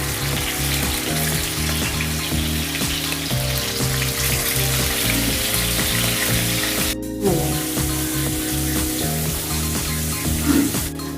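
Rohu fish pieces frying in hot refined oil, a steady loud sizzle and crackle with a low continuous hum underneath.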